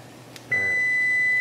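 Preheated oven giving a single steady electronic beep that starts abruptly and holds as a long sustained tone in a quiet kitchen.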